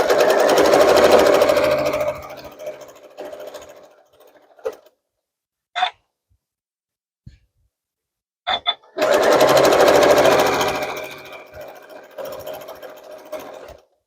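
A sewing machine stitching quilt fabric for a patriotic American flag quilt, running in two loud steady bursts of fast needle hum separated by a quiet pause with a few clicks and a brief whir, heard close up.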